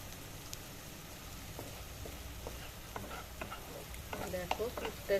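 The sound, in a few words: egg filling frying in a pan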